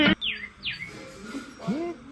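A house sparrow gives several short, bright chirps and tweets in quick succession, close and fairly clear, over faint background sound.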